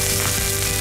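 Shrimp sizzling on a grill, a steady dense crackle and hiss filling a brief moment with no voices.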